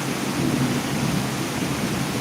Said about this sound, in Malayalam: ഇടിമുടക്കം കേൾക്കാവോ നിങ്ങൾക്ക്